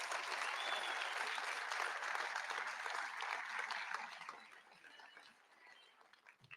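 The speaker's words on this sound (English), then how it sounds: "Let's give them a round of applause." Audience applause for the third-place team at a closing ceremony, a dense sustained clapping that holds strong for about four seconds, then thins and tapers toward the end.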